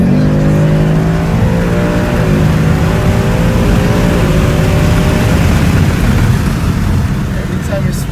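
A 2019 Ford Mustang GT accelerates hard from inside the cabin, its engine roaring loudly and rising in pitch through several gear shifts. Steady road and wind noise sits underneath.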